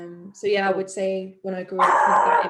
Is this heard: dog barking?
yes